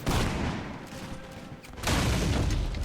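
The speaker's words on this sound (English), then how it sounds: "Light infantry! Fire at will!" A light infantry musket volley in Mount & Blade Warband: a dense crackling burst of many shots at the start and again near the end, with a sustained roar of battle noise between.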